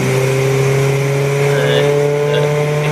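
A 2-litre Renault Megane RS 250 race car at a Snetterton 300 club enduro race, its engine a steady sustained drone with a strong low tone and a faint higher whine, loud and continuous throughout.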